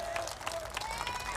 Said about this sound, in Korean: 앵콜 박수 한번 부탁합니다.